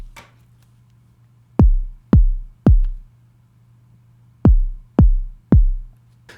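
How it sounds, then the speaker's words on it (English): A solo synthesized kick drum made from a basic Serum patch thumps six times alone, in two groups of three evenly spaced, deep booming hits with quick decays over faint background hum. "It's actually a little kick that I created just with a basic serum patch"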